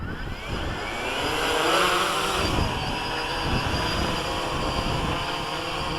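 A WLToys V303 Seeker quadcopter's motors whir steadily at close range, a continuous buzzing hum that rises slightly in pitch, then holds as the drone flies.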